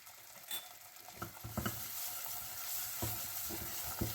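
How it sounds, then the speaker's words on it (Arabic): Flour being stirred in a hot pan with salt, spices and thyme, soft scraping strokes of a spoon and light sizzling over a steady frying hiss, several distinct stirs spaced irregularly, no talking. "نحرك في الطحين شي 3 دقائق"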